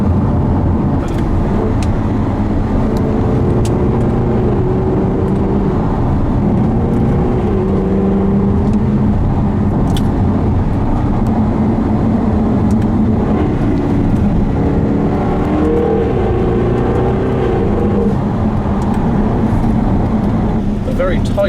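A Jaguar XKR-S cruises a twisting coastal road between Looe and Polperro in Cornwall, its engine droning steadily with gentle rises in pitch over constant tyre and road roar for the full stretch.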